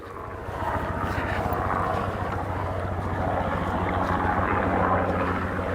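Steady low rotor-and-engine drone of a helicopter on a tour flight over a lakeside area, a continuous loud rumble with pulsing low-frequency beats that holds evenly throughout without talk.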